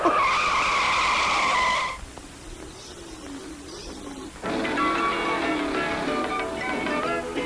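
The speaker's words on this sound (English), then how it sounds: "Luigi, start the race, please. All right, on your mark, get set, go!" Race cars launch at the start of a race, opening with a loud tire skid and squeal, then a quieter gap before engines and tires rise again in a steady roar.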